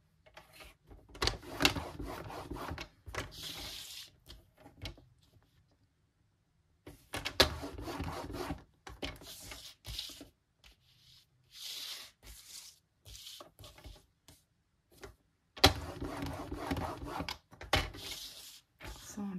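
Paper being scored and creased around a small card box lid and base, with bursts of rubbing and sliding strokes separated by quiet pauses, close and moderately loud.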